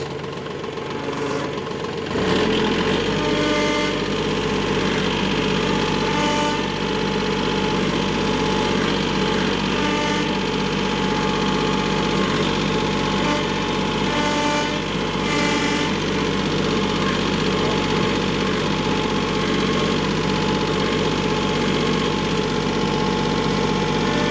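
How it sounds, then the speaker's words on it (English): A tractor engine starts up and runs steadily while the tractor moves forward during farm work clearing brush and logs, a loud continuous diesel rumble with knocking close by, with no talk over it. "So let's go a little more forward with the tractor."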